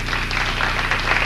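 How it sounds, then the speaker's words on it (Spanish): A brief burst of steady audience applause at a salsa dance contest, dense crowd clapping heard fairly close and filling the whole moment without talk. "Fuerte aplauso para la pareja de la derecha."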